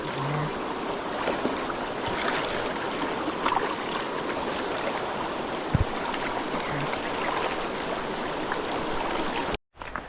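A fast, deep river rushes into rapids, giving a continuous roar of churning water with a few small splashes, heard close and steady until a sudden cutoff at the end.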